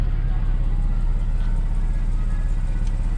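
A warmed-up Porsche Cayman S 987 Gen 2 with PDK and sports exhaust idles with a steady, close, low rumble. Any switching of the exhaust is very subtle.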